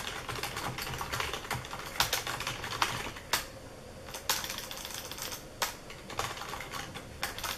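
Computer keyboard typing on a mini PC setup: close, uneven bursts of clacking keystrokes with a few louder key hits and short pauses, and no talking.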